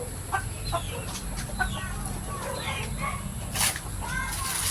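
Gamecock roosters and hens cluck and call around a yard, scattered chirpy calls over a steady low background hum, with a louder burst near the end and a person speaking at times.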